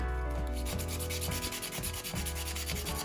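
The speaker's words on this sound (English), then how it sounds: "Take you a piece of sandpaper," Sandpaper is rubbed by hand over a smooth metal surface on a handgun holster build, giving close, continuous rasping strokes in a steady back-and-forth rhythm with no talk.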